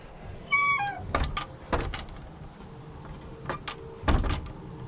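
A wooden outhouse door at a bushcraft camp is pulled toward shut but won't fully close, giving several scattered knocks and rattling clacks, with a brief thin squeak near the start.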